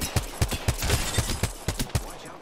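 Rapid gunfire from the video game Apex Legends, a string of about ten sharp, punchy shots in an uneven burst rhythm, loud and close with no talk over it.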